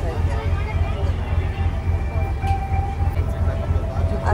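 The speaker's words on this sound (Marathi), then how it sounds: "आता ट्रेनने नेणार झुकझुक गाडी" Train running along the track, heard from on board or close by, with a steady rhythmic clatter of wheels over rail joints and a low rumble, under occasional voices.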